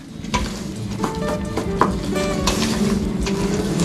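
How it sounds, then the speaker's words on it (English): A utensil stirs flour and orange juice together in a bowl, making repeated scraping and clinking strokes over a soft wet, sizzly texture, close and moderately loud. "Et on mélange le tout. And we mix it all together."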